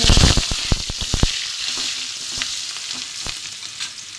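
Garlic frying in hot oil spiced with dried red chilli and whole garam masala, a loud, close, bright sizzle opening with a quick run of sharp spattering pops that then settles into a steady hiss with scattered crackles.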